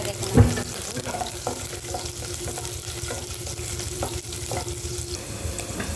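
Oil heating in a hot pot on a home kitchen stove before garlic goes in for a Filipino long bean and squash coconut stew, a steady close sizzle with a sharp burst of crackle near the start.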